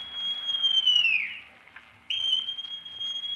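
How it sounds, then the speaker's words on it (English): A whistle is blown in a radio drama of Treasure Island: two shrill, sustained blasts, the first sliding downward as it fades, then a short pause before a second steady blast, clear and close with no talk. "Then Silver brought out a whistle."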